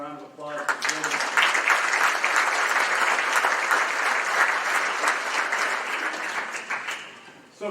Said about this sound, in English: So how about a round of applause for the building?